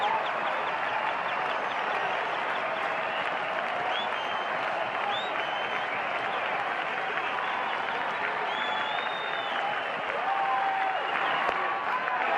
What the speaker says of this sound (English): This capacity crowd at Fenway Park stands as one as the Red Sox try to grab the home opener.